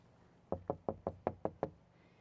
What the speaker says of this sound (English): let me knock on the wood a little bit,